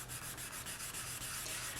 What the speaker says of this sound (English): I'll just start sanding the top and the sides and the back